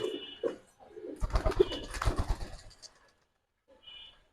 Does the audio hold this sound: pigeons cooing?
yes